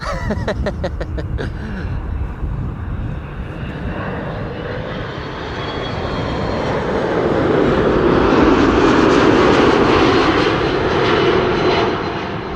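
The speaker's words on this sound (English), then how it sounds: "KLM Flight 787 arriving from Port of Spain, A330-200." A KLM Airbus A330-200 jet arriving at an airport roars past close by, its engine noise building to a broad, loud rush before starting to fade.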